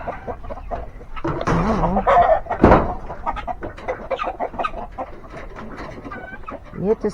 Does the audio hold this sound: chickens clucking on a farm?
yes